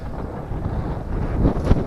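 Low, blustery wind rumbling against a microphone, steady throughout with a couple of stronger gusts near the end.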